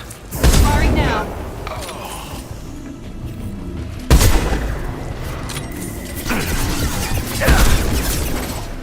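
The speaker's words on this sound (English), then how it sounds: "Firing now." Weapons fire in the Mass Effect 2 video game, with loud booming blasts and rapid bursts breaking out in several waves amid mechanical clatter, under ongoing game voices.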